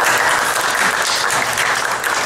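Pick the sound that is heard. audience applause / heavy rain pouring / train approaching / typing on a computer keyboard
audience applause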